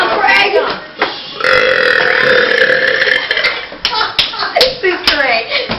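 Loud, close burps during a burping contest: one long drawn-out belch in the middle, with shorter bursts before and after, and excited voices and bumps around them.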